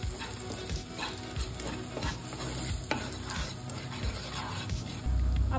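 Cumin, mustard seeds, turmeric, red chilli powder, onion-garlic masala and garam masala fry and get stirred in a pan for a drumstick bhaji, with a steady close sizzle, loud scraping strokes and a louder burst near the end.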